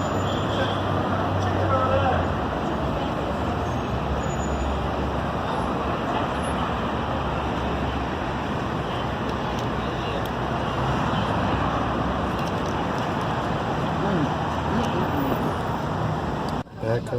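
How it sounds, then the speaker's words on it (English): Dense road traffic on a weekend, a continuous broad roar of many cars and larger vehicles passing at mid distance, steady and loud throughout. "oh my gosh, look at all the car traffic."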